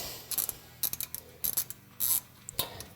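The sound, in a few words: ratchet loosening bolt on Polaris RZR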